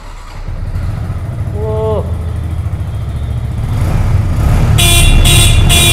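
A 2024 Yamaha MT-15 motorcycle's engine rumbles up close in a showroom, growing louder after a few seconds as it is revved. A voice speaks briefly, and short horn toots sound near the end.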